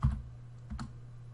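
A couple of computer keyboard keystrokes enter a number, two soft close clicks about three-quarters of a second apart over a low room hum.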